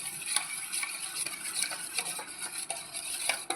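A spoon stirs ragi flour mixed with water inside a vessel, giving quick, repeated scraping and clinking strokes in a steady rhythm, close and moderately quiet with no voices.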